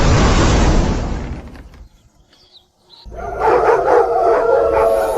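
Cartoon dogs in an animated fantasy series bark and howl: a loud burst of noisy yapping, a brief near-silent gap, then drawn-out, wavering howls close up.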